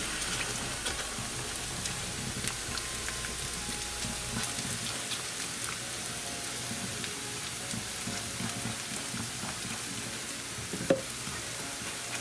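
A pan of browned sauce with cream simmers steadily, giving a continuous soft bubbling and sizzle with no talking over it.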